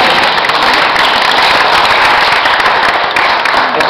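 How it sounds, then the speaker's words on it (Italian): An audience applauding a young woman at a live talk event, loud, dense and unbroken clapping that holds steady from start to finish. "Suggerirei l'applauso per la ragazza."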